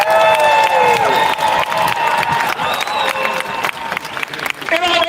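A crowd at an outdoor freedom protest rally in London, Ontario claps and cheers steadily and loudly, while a voice and whistles ring out above the dense applause.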